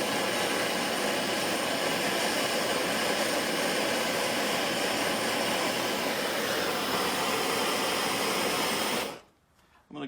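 Torch roaring steadily while preheating a Hurst pistol grip shifter handle before brazing, a loud continuous hiss that runs unbroken for about nine seconds, then cuts off abruptly.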